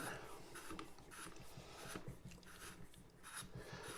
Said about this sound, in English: Unscrew this shroud. We're going to get it off of there.